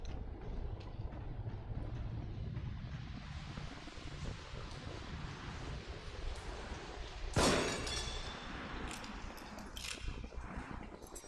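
Subway train ambience in the horror game The Evil Within: a steady low rumble of rail cars with a sharp crash or clatter near the middle, followed by lighter metallic rattling.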